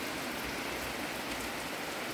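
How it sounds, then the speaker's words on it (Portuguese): Heavy rain falls at night in a thunderstorm, a dense, even hiss of drops on surfaces that stays steady and loud throughout the short stretch. "E a chuva aumentou, pessoal, já aqui, ó. Tá aumentando."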